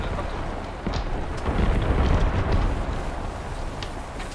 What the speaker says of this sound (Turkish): Aa şimdi bak patladı yanımızda.